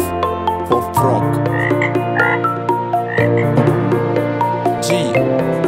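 Repeated frog croaks in a quick rhythm, loud and close, set over steady music.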